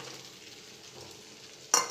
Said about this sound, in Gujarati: हवे एमां आपणे आ बटाका एड करी दईशुं